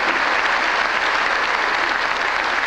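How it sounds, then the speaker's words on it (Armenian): Steady, dense applause from a concert audience during a performance of Armenian songs, loud and continuous throughout with no voices over it. "Խնդրում եմ ծափարեք,"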